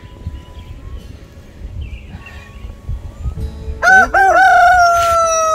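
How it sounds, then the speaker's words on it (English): A rooster crowing up close beside a pond, a loud drawn-out cock-a-doodle-doo that bursts in after several seconds of quiet outdoor background and soft clucking. "It's okay, it's just a chicken."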